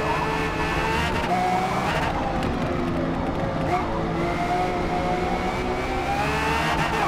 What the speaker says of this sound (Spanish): Como suenan esos motores, me encantan